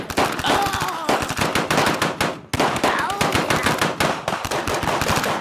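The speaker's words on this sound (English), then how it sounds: "we were exchanging gunfire" Rapid, loud bursts of machine gun fire in a radio play, dense rattling volleys broken by a brief pause before resuming.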